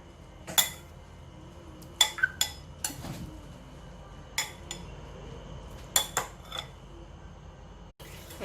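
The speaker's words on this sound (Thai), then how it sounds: "เดี๋ยวมาจัดใส่จานกันนะคะ" Metal utensils clink sharply against a plate several times at irregular intervals while prawn and kale salad is dished up, close and crisp over a quiet room.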